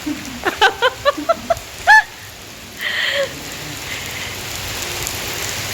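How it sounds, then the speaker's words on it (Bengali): Steady patter of rain falling outside, a continuous soft hiss with a few brief bird-like chirps and calls near the start. "তো বৃষ্টি হচ্ছে আজকে বাইরে।"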